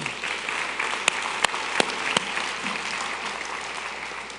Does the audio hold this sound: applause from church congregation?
yes